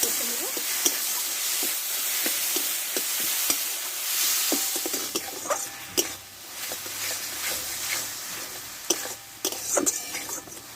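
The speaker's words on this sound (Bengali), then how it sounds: "দেখো মশলাটা আমি কষে নিয়েছি ভালোভাবে" Spice masala with turmeric, Kashmiri chilli and salt being stirred and sautéed in a pan, with steady close sizzling and frying hiss broken by scraping and tapping of the spatula against the pan.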